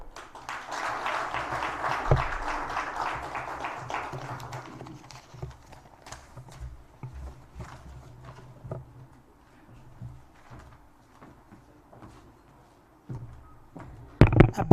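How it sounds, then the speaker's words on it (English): Applause at a national launch event for a poverty index report, a dense burst of clapping across the opening seconds that fades to scattered claps, with brief voices and thumps near the end. "A bigger round of applause for Mr. Senono Vincent"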